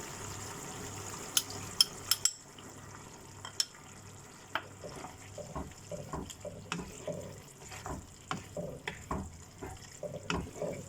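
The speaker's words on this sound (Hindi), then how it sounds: "ये देखिए, इसमें बॉईल आ गया है" Sauce for chilli chicken simmering in a pan, faint quiet bubbling and soft popping with occasional small clinks, close and low in level.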